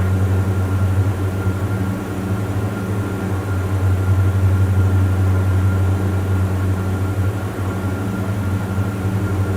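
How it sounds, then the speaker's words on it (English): Twin-engine Diamond DA42 light aircraft on approach in Microsoft Flight Simulator 2020, a steady low propeller engine drone that hums evenly and loudly without changing, no voices. "So I do like to hear the engine on approach"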